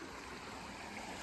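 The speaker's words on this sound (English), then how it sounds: "There's a little waterfall." A small waterfall beside a hiking trail, heard as a soft, steady rushing wash of water, faint and continuous with no voices.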